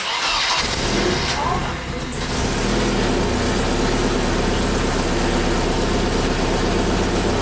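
A Mercedes 190E engine starts and keeps running loudly up close, with a rough, puffing exhaust rattle from a leaking exhaust manifold throughout and voices faintly underneath.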